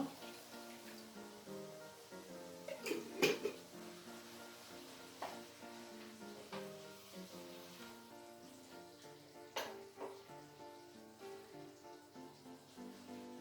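Canned pepper and tomato sauce for patates oturtma cooks in a pan, giving a faint steady sizzle with occasional spattering pops beneath soft tonal background sound.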